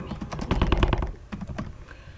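Rapid typing on a computer keyboard while writing a block-style business memo, a short close burst of clicking keystrokes, busier at first and then thinning to a few scattered taps.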